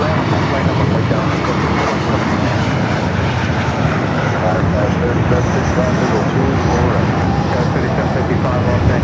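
Boeing 747-8 Intercontinental taking off at LAX, a loud sustained jet engine roar filling the whole stretch with a broad rumbling drone, while a voice talks over it.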